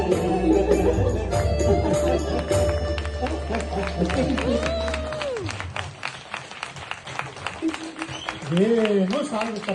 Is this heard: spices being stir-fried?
no